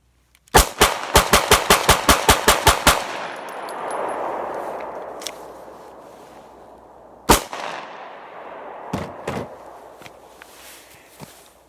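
A Glock 26 pistol fed from a drum magazine fires a fast string of about a dozen loud, evenly spaced shots, then falls quiet before a few scattered single sharp reports and clanks.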